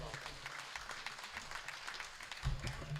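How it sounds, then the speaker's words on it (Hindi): Audience applause at a mushaira, an Urdu poetry gathering in Deoband, as a poet is welcomed to the stage; steady, fairly faint clapping from a crowd that continues throughout and swells slightly near the end. "भरपूर तालियों में इस्तकबाल करें मोहतरम इकबाल अशर साहब"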